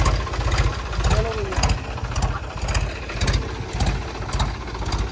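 A tractor engine idles with a steady, rhythmic low chug, close and fairly loud, holding an even pulse for several seconds.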